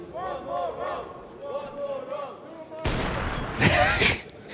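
Crowd at a Counter-Strike 2 quarterfinal esports match, TheMongolz vs. 3DMAX at EWC 25, erupting in a loud roar that swells midway under a caster's voice talking.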